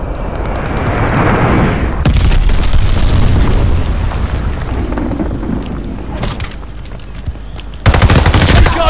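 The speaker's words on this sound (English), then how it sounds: "Enemy's got a glide bomb incoming" A glide bomb comes in and explodes in a video game: a heavy continuous rumble and booming blast, then sharper bangs and bursts of gunfire, loud and close.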